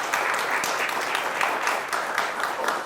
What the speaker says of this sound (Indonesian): Tepuk tangan buat BHS.